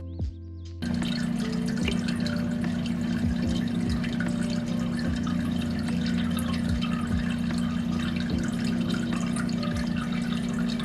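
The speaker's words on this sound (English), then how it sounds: "if you and your pet don't mind the noise, then you should be able to have a perfect experience with the water fountain" A pet water fountain runs with a continuous trickling and splashing of water, a steady pump hum underneath and occasional small drips, close and even throughout.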